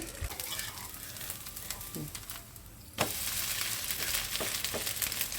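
Coconut oil sizzles around set dosa batter on a hot covered pan, a steady hiss that grows louder after a sharp clatter of the lid, with a few soft clicks over it.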